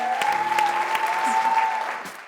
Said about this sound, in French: Est-ce qu'on peut l'applaudir bien fort?